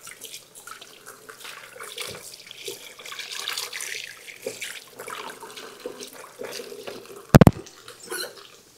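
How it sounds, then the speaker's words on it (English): Hands are washed under a running kitchen tap while cooking pork chops, a steady close splash of water with a brief sharp clunk near the end and no talking. "I'm going to wash my hands again"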